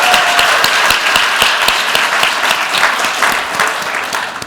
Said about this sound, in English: Let's give one more round of applause to Jonathan